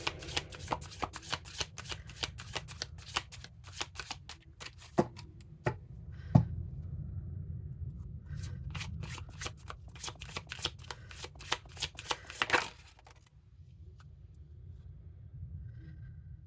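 Tarot cards are shuffled by hand during a reading, a rapid run of crisp riffling clicks and soft slaps that continues for many seconds, close and fairly quiet with no talk.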